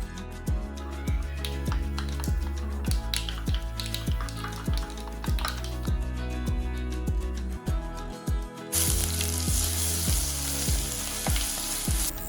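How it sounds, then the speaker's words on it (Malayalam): Mustard seeds spluttering in hot coconut oil, a dense sizzle peppered with many sharp popping crackles that keeps going throughout and swells into a louder, hissier fry near the end, with no one talking. "വെളിച്ചെണ്ണ ചൂടായി വന്നാൽ അതിലേക്ക് കടുക് ഇട്ട് പൊട്ടിക്കാം."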